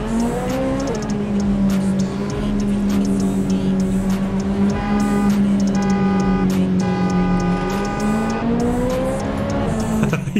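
Racing cars, including a Toyota Supra, in a Forza Horizon 5 race: a loud, sustained engine drone rises and falls in pitch as it revs and shifts, with faint tyre noise and no voices.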